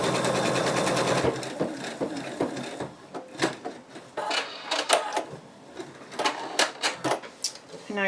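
A sewing machine stitches a betta fish plush close up, first in a fast continuous whir, then in short stop-start bursts with clicks and taps, while a person talks throughout.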